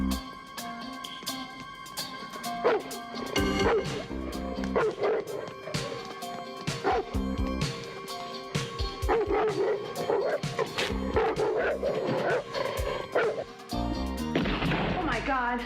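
A dog barks, yips and whimpers repeatedly in an emergency scene after a gunshot, the sharp yelps close and insistent, with voices talking over and between them throughout.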